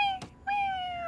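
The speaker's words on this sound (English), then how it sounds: "This kitty came to take something." A cartoon cat gives two short meows, the second drawn out with a slight falling pitch, close and clear with no talking.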